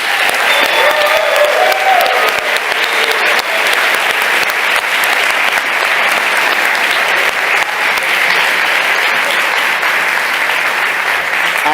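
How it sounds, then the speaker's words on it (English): Large audience at a hackathon closing ceremony applauding steadily, a dense continuous wash of clapping for about twelve seconds, loud and even with no talk over it. "So let's give them a big round of applause."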